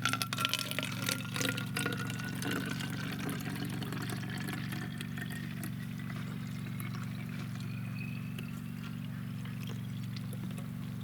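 Liquid fungicide solution for grapevines is poured into a bottle, a steady close trickle with a faint rising fill tone over a low constant hum, starting slightly louder and then settling.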